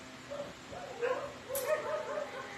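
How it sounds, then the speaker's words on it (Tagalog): Several faint dog yips and short barks overlap in quick bursts, sounding like small dogs squabbling some distance away. "Nag-aaway yung mga aso."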